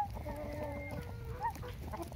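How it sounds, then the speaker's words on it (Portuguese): Chickens and roosters on a farm scuffling, with a rooster's strained crowing calls and clucks rising over a quiet, distant background murmur. "Olha esse galo enorme. Meu Deus, eles estão brigando."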